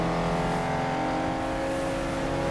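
Wreckfest video game car engine droning steadily with a constant harmonic tone and gear shifting, a slow car on a racing track, loud and continuous with no talk.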